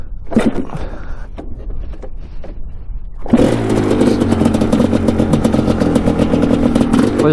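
A Quadzilla Banshee 500cc quad starting up after a few sputtering tries, then settling into a loud, steady, rattly idle close by with no talk.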